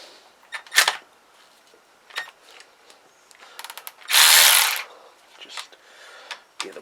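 Engine bolts on a Kawasaki GPZ500S motorcycle are loosened with a power tool, heard as short close whirring bursts and clicks, including one longer, louder burst midway.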